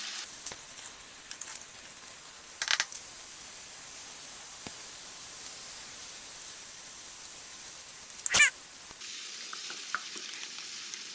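Red bell peppers and chopped green onion sizzle steadily in a pan with a soft, continuous crackling hiss, broken by a couple of brief louder stirring scrapes close by.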